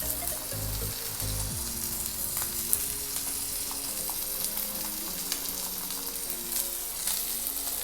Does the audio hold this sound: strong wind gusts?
no